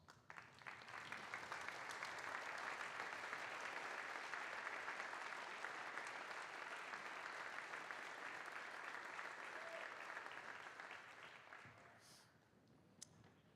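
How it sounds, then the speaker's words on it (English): Sustained, even applause fills the hall at an annual alumni sports banquet, holding steady for about ten seconds before tapering off into scattered claps. "a round of applause"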